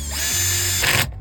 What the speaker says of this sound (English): I got this Porter cable drill,